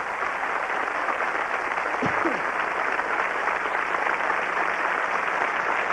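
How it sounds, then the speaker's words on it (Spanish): Concert audience applauding a Mexican orchestra, a dense wash of clapping that stays steady and fairly loud throughout, with no speech over it. "para quien pida un aplauso muy grande"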